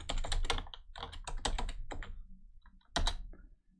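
Quick bursts of clattering keystrokes on a computer keyboard as a password is typed at a Windows Server console, close and crisp, with a pause and then a final heavier key press.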